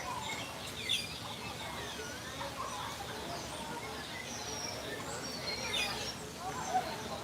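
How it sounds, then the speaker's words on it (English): Birds chirp and call in a busy outdoor spot at a theme park near the Tron Light Cycle Run canopy, scattered tweets over steady crowd noise and voices. "Birds everywhere. Look at these guys."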